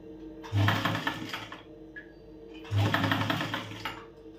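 A sewing machine stitches a blouse in two short bursts of rapid, rhythmic whirring, separated by a brief pause, close and moderately quiet.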